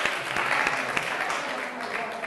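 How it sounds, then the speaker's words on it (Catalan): A short burst of audience applause from a school quiz-show crowd, dense, even clapping that holds steady and close throughout. "Un aplaudiment també per tots dos"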